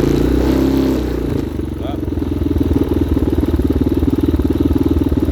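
A 2019 Hawk 250cc motorcycle engine idles on its own with a steady, close, pulsing rumble that grows more regular and throbbing after the first second or so.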